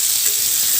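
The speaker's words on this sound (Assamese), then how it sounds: "মছলাবিলাক লাগিবৰ কাৰণে ধুনীয়াকৈ এনেকৈ লৰাই দিব।" Spices coating jackfruit seeds in a pan crackle in an even, close sizzle for a moment, with no voices.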